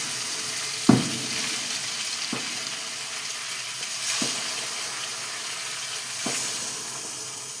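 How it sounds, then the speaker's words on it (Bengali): Egg-coated chicken pieces fry in a kadai with a steady, moderate sizzle, and soft clinks or pops land roughly every two seconds as the pieces go into the oil. No one speaks. "নিয়ে এবার দেখো আমি এক এক করে কড়াইয়ে দিয়ে ভেজে নেবো"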